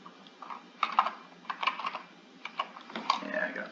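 Typing on a computer keyboard, quick close clicking keystrokes in uneven clusters of a few taps each, fairly quiet, with a voice murmuring faintly beneath at times.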